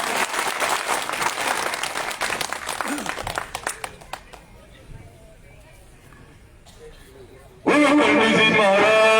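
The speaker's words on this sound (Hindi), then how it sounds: "जोरदार तालियों के साथ में स्वागत" A crowd at a BJP election rally applauds to welcome the candidate, rapid dense clapping that thins out and fades to near quiet; then loud voices or music abruptly cut in at the end.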